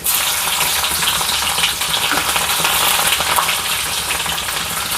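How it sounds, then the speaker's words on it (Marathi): Cumin seeds and garlic sizzle and crackle loudly in hot oil while an ukadpendi is being made, a dense, continuous frying hiss with scattered pops that stays close and steady throughout. "आणि हे जिरं टाकूया हा लसूण टाकूया"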